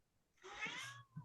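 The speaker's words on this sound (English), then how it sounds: "Hi, kitty. You're the cat. Coming close to me." A house cat gives a single drawn-out meow, clear and fairly close, with a short soft sound trailing after it in a quiet room.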